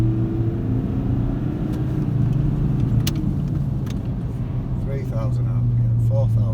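A Nissan 4x4 with a bog-down-under-load problem, its engine held at a steady high idle around 4,000 RPM with a continuous droning hum, a sharp click midway and a voice speaking briefly near the end.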